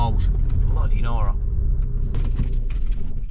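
A car drives slowly over a potholed road, its engine rumbling low and steady inside the cabin while jolts and rattles clatter intermittently; a person speaks briefly over the noise.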